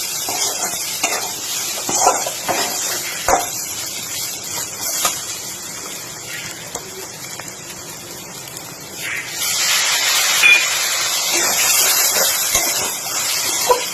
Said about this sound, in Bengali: অল্প অল্প জল দিয়ে কষতে হবে, যাতে মশলাটা পুড়ে না যায়।